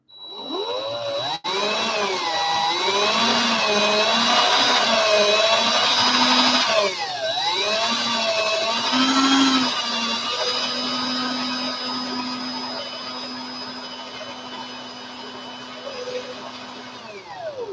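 A power drill whirs steadily for a long stretch as it twists coil wire for vaping coils, its pitch dipping and rising with load before winding down.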